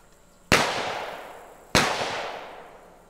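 Two loud gunshots fired outdoors during an acoustic threat detection demonstration in Louisiana, sharp cracks about a second apart, each followed by a long echoing decay.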